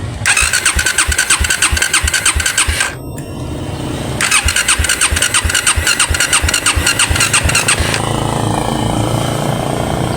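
A Rusi Raider 150 Fi motorcycle that will not start after a car wash is cranked in two loud, rhythmic, pulsing runs with a short gap between them, then settles into a lower, steadier engine drone.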